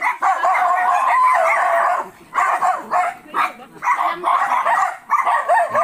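A small chihuahua-like dog barks and yips in quick bursts, close and loud, with short whining gaps between volleys during a mountain walk.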